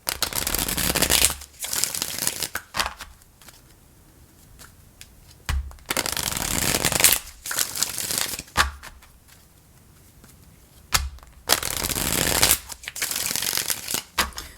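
A deck of tarot cards is shuffled in several loud riffling bursts, separated by short quiet pauses, close to the listener.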